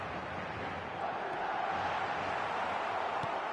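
Crowd noise in a football video game after a goal, a steady broad roar of cheering that swells slightly midway, moderately faint and continuous.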